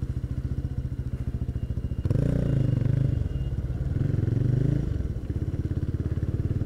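A GPX 250R motorcycle rides at steady speed, its engine a continuous rapid buzzing drone that swells in two louder surges of revving, heard up close with wind and road noise.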